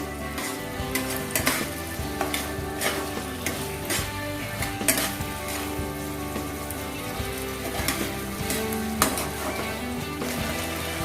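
Soya chunks fry in a pan for a chilli soya dish, with a constant loud sizzle broken by repeated scraping stirs of a spoon against the metal.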